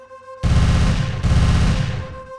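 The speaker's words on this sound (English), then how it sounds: "He squeezed the trigger." Sustained burst of rapid automatic gunfire in a Fallout-world story, as a hunter empties his magazine into the dark at a deathclaw; loud, dense and continuous, starting abruptly after a brief ambient lead-in and carrying for about two seconds.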